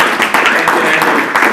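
Audience applause at an award event, a short close burst of massed clapping at a constant loudness.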